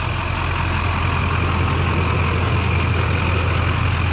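A Duramax diesel truck fitted with a cheap cold air intake runs steadily up close, a constant loud low engine drone mixed with a broad, even whoosh of air being drawn in, with no pauses.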